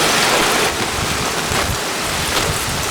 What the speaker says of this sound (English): You can see the rain and the palm tree pummeling underneath the hurricane winds.